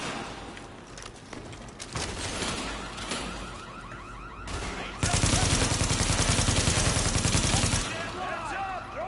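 Rapid video game gunfire fills the scene, with scattered shots early and then a long, loud sustained automatic burst, while voices talk over the action.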